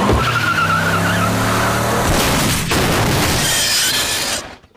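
A cartoon car driven by Peter in Family Guy screeches into a long, loud tire skid with engine roar, ending in an abrupt cutoff.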